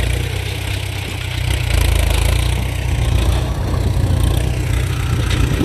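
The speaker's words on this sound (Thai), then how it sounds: "โอ้ฝั่งนู่นมีรถไถ" A Ford 6610 single-axle tractor plowing a rice field, its engine droning steadily at close range and growing slightly louder after a couple of seconds, with no voices.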